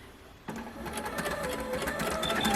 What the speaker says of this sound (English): So we're chain piecing these together, which means I don't stop sewing.